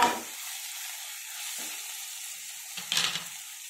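Fenugreek leaves frying in a pan for a brinjal and green peas curry, a steady high sizzle with a few brief stirring scrapes, close and alone.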